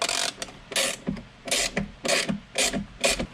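A Torx T25 driver ratchets as it backs small bolts out of a car interior panel while a mid-chassis harness bar brace is fitted. The sound is a close, loud, rhythmic series of clicking ratchet bursts, about six strokes.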